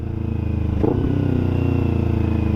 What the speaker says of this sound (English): downshift smoothly, blip throttle, everything all at once. Release throttle first.